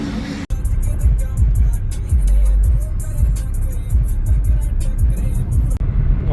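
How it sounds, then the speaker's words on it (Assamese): A car drives along a cement road, giving a steady, close rumble of tyres and engine that runs without a break throughout. "চিমেণ্টৰ ৰাস্তা এইবোৰ, চাউণ্ড ওলাই যায় ৰে এইবোৰত গাড়ী চলালে পুৰা"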